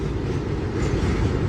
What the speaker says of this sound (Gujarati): ભારત પેટ્રોલિયમ ગેસની ટ્રેન છે.